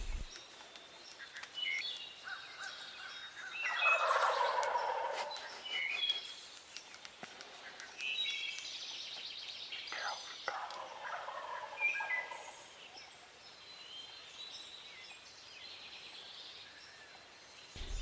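Wild turkeys on the roost in the dark before dawn in Illinois, gobbling repeatedly from several directions, some calls fairly close and others faint and distant, over a quiet morning backdrop.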